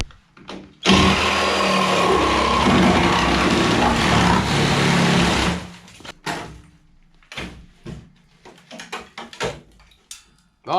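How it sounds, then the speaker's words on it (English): A Sawzall reciprocating saw cuts through the floor pan of a 1973 Volkswagen Beetle. The harsh, buzzing rasp runs loud and steady for about five seconds, then stops, followed by scattered clanks and handling noises. "Let's go ahead and start sawzalling again."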